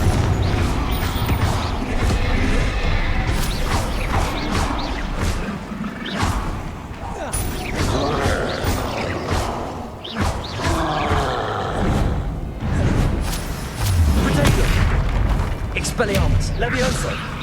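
Confringo blasting spells fired in combat in the video game Hogwarts Legacy, with repeated loud booms and crashing explosions amid chaotic battle noise, overlapping spoken shouts.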